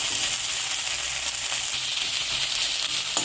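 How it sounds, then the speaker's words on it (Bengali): A paste of ginger, garlic and green chili fries in a pan with a loud, steady sizzle, close and unbroken, with faint stirring scrapes underneath. "মশলাটা কিন্তু কষিয়ে নেওয়া হচ্ছে"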